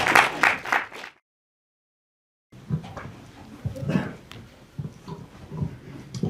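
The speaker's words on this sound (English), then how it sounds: "I think we can start with another round of applause for what was a pretty amazing film there." Audience at a film screening applauding after the film ends, ahead of a Q&A: a brief voice, a short silence, then several seconds of moderately loud clapping and crowd noise.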